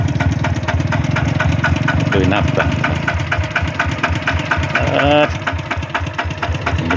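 A farm tractor engine runs in a dry-season rice field with a steady, loud, rapid chugging throb. Someone talks over it.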